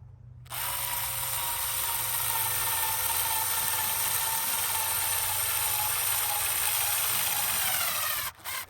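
Power tool driving 40mm screws into decorative gazebo frames, a steady high whirring drone that starts abruptly, runs close and loud for about eight seconds, then cuts off with a brief final burst.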